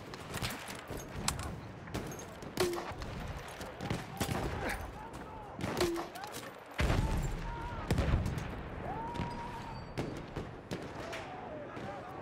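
Battlefield 1 battle with machine gun fire: sharp gunshots crack in scattered bursts amid explosions and battlefield noise, while a player talks over the action.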